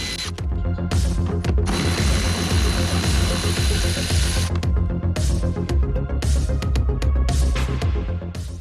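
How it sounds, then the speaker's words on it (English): A cordless electric ratchet whirs in long, loud bursts near the mic while backing out the four seat bolts of a car, with brief pauses and clicks between runs. "The cordless electric ratchet makes quick work of the 4 bolts to hold the thing"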